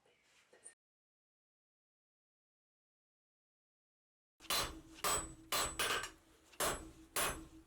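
A blacksmith hammers a bar while forging an offset, and a series of sharp, ringing strikes comes after a long silence. The blows land in an uneven rhythm of about seven hits, each clear and fairly close.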